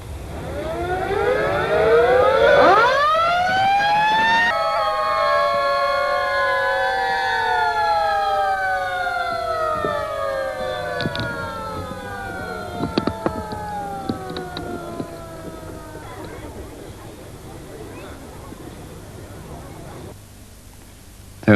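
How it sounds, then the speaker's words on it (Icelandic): Fire station sirens sounded in farewell as the Icelandic fire brigade moved to a new station by Reykjanesbraut in 1966: several loud wailing sirens rising and falling together, winding down over about fifteen seconds amid scattered clanks and crowd noise. "Sírenur voru þeyttar í kveðjuskyni."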